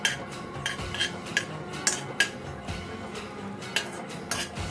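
A spoon stirs a cup of dry fruits frying in ghee in a pan while mango sheera is being made, with repeated metallic clinks and scrapes against the pan over a soft, steady background, no talking.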